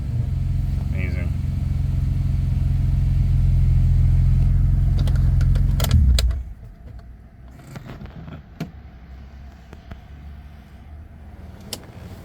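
A 1989 BMW 325iS E30 with a swapped S54 engine and E46 six-speed manual holds a loud, steady high rev for about six seconds close by, then drops off, leaving a low idle with scattered clicks and background noise.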